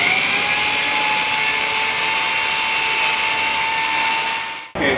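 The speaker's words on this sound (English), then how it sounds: "One of the reasons why Chucky is using such a big drill is because our relockers are massive." A big drill bores into the hard plate of a locked vault door, a loud continuous high-pitched grinding whine that holds steady for several seconds and then cuts off abruptly.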